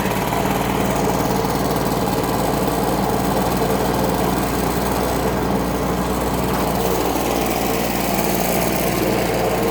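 A Cub Cadet lawn tractor engine runs steadily and loudly up close, a continuous droning hum with no breaks and no talking.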